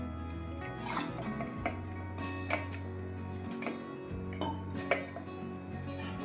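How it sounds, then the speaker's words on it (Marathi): Water is poured into a bowl of soaking sago in a home kitchen, giving soft trickles and drips with light clinks of utensils against the bowl, close and fairly quiet, no talking. "त्यातही मी थोडं पाणी टाकते आता,"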